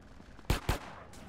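Two sharp sniper rifle shots from a video game fire in quick succession, loud and close, with a short tail after each.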